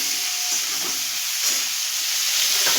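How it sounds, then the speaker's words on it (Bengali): Cauliflower fries in oil with salt and turmeric, giving off a loud, continuous sizzling hiss with occasional soft stirring bumps and scrapes in the pan, close by and without talk. "হলুদ দিয়ে এটাকে আমরা ভালো করে ভেজে নেব।"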